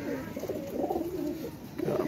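Old-breed flying pigeons, some dyed with colour, coo in a low rolling warble close by, one continuous throaty phrase rising and falling with a short pause before resuming.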